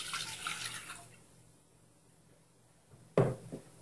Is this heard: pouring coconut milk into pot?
yes